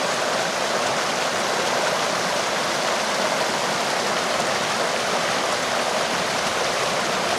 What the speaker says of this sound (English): Made it down to Symmes Creek.